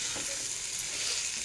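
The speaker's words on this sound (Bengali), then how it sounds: "আবার আমি নেড়ে দেবো।" Mutton cooking with mango pickle flavours sizzles and fries loudly and steadily in a pan while being stirred, close and continuous with no voices.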